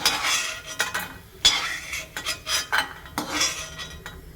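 Fried asafoetida is scraped from a pan into a bowl while making puliyodharai powder, a few close metal scrapes and light clinks of a spoon against cookware in uneven bursts, with no talking.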